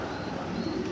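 A male fancy pigeon of red indigo colouring at a pigeon farm gives a soft, low, brief coo, close by and without speech.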